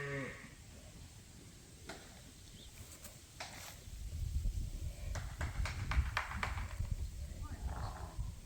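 Sheep bleat several times at a ram sale where working dogs wait for the flock to come out, short calls rising over a low rumble of shuffling hooves and background voices.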